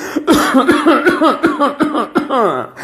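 A voice imitates a child choking and coughing on water stuck in the throat, producing a rapid string of strained, rhythmic coughs and gasps, loud and close.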